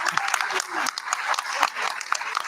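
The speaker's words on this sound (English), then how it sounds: "Let's give Flipboard a round of applause." A packed room of people at a comic book project event applauding, with brisk, continuous clapping and a few voices mixed in the crowd noise.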